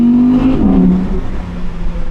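A 2020 Audi R8 Spyder RWD on the Grimsel Pass revs hard with its exhaust flaps open, a loud, close engine tone that climbs and then falls back into a steady rumble, with no talk over it.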